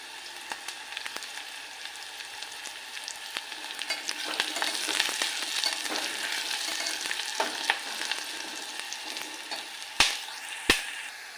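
Onion and curry leaves sizzle steadily in a hot pan for chicken curry with cashews and potatoes, with scraping stirs and a couple of sharp clanks near the end, nobody speaking.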